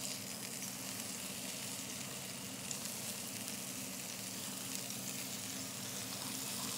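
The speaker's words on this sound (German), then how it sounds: "Das habe ich mir bereits in 4 Medaillons geschnitten und braten es jetzt an." Four pork tenderloin medallions searing in a hot pan, a loud steady hiss and crackle of sizzling fat throughout, close and unbroken.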